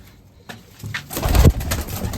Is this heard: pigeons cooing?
yes